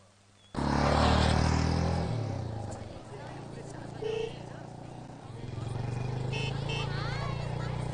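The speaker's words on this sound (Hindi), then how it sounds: "बाइक रोक दो।" A motorcycle rides along a road. Its engine starts with a strong drone, drops to a lower steady hum, then swells again, while voices talk over it.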